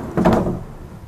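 A door inside a 2021 Merhow toy hauler in pewter with a farmhouse interior is pulled open, making a single short close scrape and thud that fades quickly into quiet.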